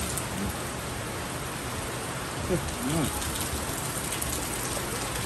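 Steady rain pours down outdoors at a farm, a dense even hiss throughout, with a couple of faint brief voice sounds underneath.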